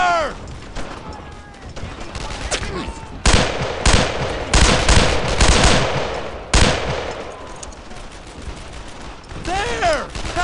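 Gunfire in the World War II shooter Brothers in Arms: Earned in Blood, with rapid automatic bursts and sharp single shots crackling close and loud in uneven volleys, while voices shout orders between them.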